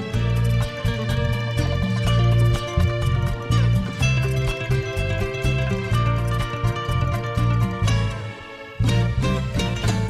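A song plays on a Spanish-language TV show, full band music with steady bass and percussion, loud and continuous with a brief dip near the end.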